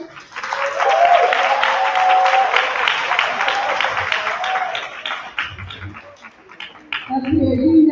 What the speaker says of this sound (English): Can we clap it up for Central United?